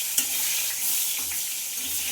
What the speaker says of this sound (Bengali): পটলটা প্রায় একটু বেশ ভালো করে ভাজা হয়ে এসছে।